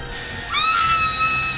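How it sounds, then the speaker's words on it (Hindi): A recorded scream with a hair dryer played back from an iPod, a rising wavering shriek that starts suddenly and holds over a faint hiss. "इसके अंदर है हेयर ड्रायर की आवाज और वो चीख"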